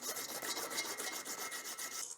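Sandpaper of 120 grit, backed with duct tape, rubs back and forth to blend the metal surfaces of an infill miter plane, a close, steady rasping in quick even strokes.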